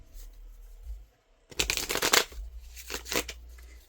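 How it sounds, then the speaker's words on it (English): A deck of tarot cards is shuffled in a quiet room: a brief soft riffle, then a pause, then two bursts of crisp, close card flutter. "I don't know why I'm shuffling these."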